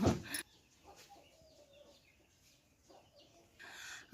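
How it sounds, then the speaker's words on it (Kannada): Chickens clucking faintly and on and off around a family home, soft scattered calls after a brief loud knock at the start, with no talk. "ನೋಡಿ ಕೋಳಿಗಳು"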